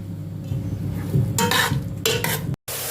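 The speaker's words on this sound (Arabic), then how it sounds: "دي مرحله من مراحل التحمير بتاع البصله" Onion browning in a pot while being stirred, for okra with meat, with a steady low sizzle under scraping and clinking of a utensil against the pot, a brief sharp cutoff near the end.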